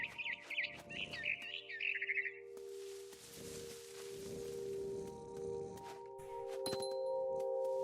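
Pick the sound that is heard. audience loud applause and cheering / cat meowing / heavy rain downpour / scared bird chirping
scared bird chirping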